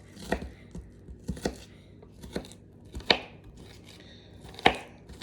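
Onions are chopped on a board for a chicken stew, with irregular knife strikes spaced about a second apart, close and crisp over a quiet background.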